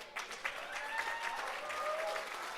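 Audience applause at an honor gala, a soft, distant round of many hands clapping that holds steady throughout, with faint voices mixed in.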